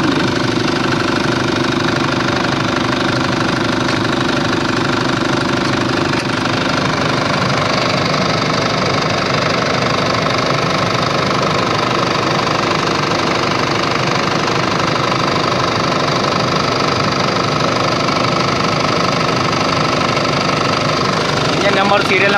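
A 15 kVA diesel generator engine runs loud and close, a steady knocking rumble that holds throughout and shifts slightly in tone partway through.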